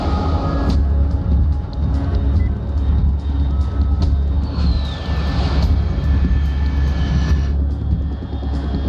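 A fast aircraft roars overhead in Metal Gear Solid 3, a broad steady engine rumble filling the whole span, with a brief rising whine and some faint beeping tones layered in.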